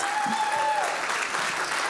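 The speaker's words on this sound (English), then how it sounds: "Massive round of applause for Kimberly Isherwood." Conference audience applauding the first speaker at a child protection event in Wales, a steady, dense wash of clapping throughout with a brief tonal whistle-like note early on.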